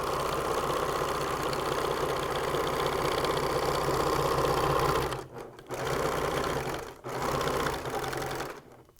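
A sewing machine stitches binding onto the edge of a t-shirt quilt with a close, steady, rapid mechanical whir. It pauses briefly twice near the end, and no one speaks.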